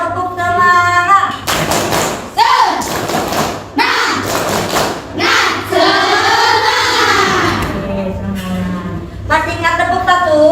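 Sixth-grade class performing a rhythmic clapping chant with their teacher, sharp claps and thumping beats mixed with many children's voices chanting together, loud and close.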